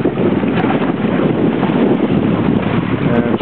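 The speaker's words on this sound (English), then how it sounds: "We've got a nice west wind, fairly steady, a little gusty." Gusty west wind sweeping across a racing sailboat on a bay, a loud continuous rushing buffet on the microphone that swells and dips, with no voices.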